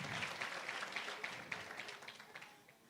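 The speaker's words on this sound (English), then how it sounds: "Another round of applause to all the amazing winners" Applause for the winners at a university innovation festival, a steady wash of clapping with individual sharp claps standing out, gradually thinning and fading over a few seconds.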